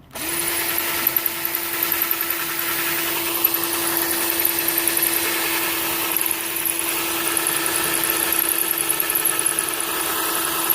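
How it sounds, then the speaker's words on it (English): A power drill with a 1/8 inch bit bores out a hole in metal for a 1933 Dodge DP 6 license plate clip. It whines steadily and close for about ten seconds, with a faint high squeal. "I'm going to drill it out using an 1/8 inch drill bit,"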